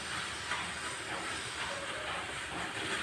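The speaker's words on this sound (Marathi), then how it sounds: "तोपर्यंत आपण शे तुपामध्ये परतून घेऊ गाजर" Carrots sauté in hot ghee for carrot halwa, a steady close sizzle and hiss that holds at an even level without pause and with no talking.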